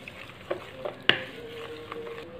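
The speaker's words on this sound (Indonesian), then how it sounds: "Kita aduk kembali." Donut dough made with cornstarch flour is stirred by hand in a bowl without a mixer, giving soft scraping and squelching with a sharp clink of utensil on bowl partway through, close and quiet.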